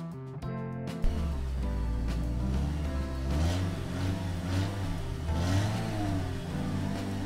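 Two cars rev and drive past, engines rising and falling continuously over a steady roar, with a sharp burst near the start and no talking.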